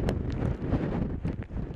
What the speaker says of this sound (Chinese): 12级的大风裹挟巨浪，